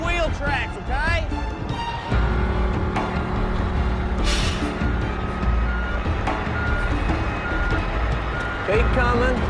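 A vehicle backs up with its reversing alarm beeping steadily over a low truck-like engine rumble, while people talk loudly nearby.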